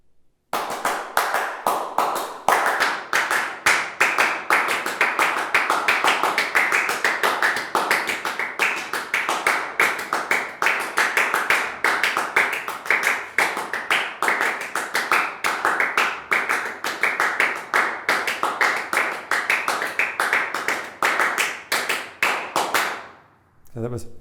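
Two performers clap Steve Reich's Clapping Music by hand, a dense, steady stream of sharp claps in shifting interlocking patterns that goes on evenly throughout and stops abruptly at the end.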